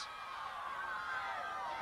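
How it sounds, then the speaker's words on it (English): Chula Vista crowd at a CIF boys' soccer match, a distant sustained roar of cheering voices, steady and fairly faint, with no single clear voice standing out. "Listen to that Chula Vista crowd."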